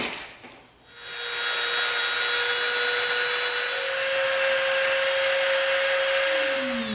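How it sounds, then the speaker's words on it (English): A Dremel rotary tool lightly sanding the edge of an EVA foam piece for a Night Elf glaive, a loud, steady high-pitched whine that spins up after a brief quiet start and holds a sustained grinding tone. "we're going to get out our Dremel and we're going to lightly Dremel the edge"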